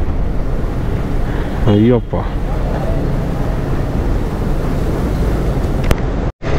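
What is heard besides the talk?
strong wind blowing on a motorcycle ride at Dhimbam Ghat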